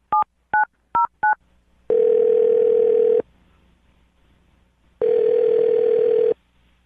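A telephone is dialed: four quick keypad tones in a row, then two long ringback tones separated by a pause of silence, clean and close with no talking.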